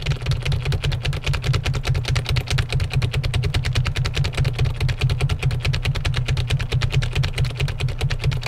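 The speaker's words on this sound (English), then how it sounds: "Can you hear my keyboard?" Rapid, steady keyboard typing fills the whole stretch, dense clicking keystrokes close up with a low hum underneath and no talking.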